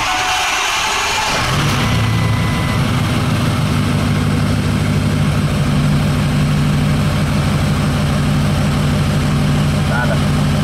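A Ford 6.0 Powerstroke diesel engine in a crew cab truck catches after cranking and settles into a loud, steady, low rumbling idle that continues to the end.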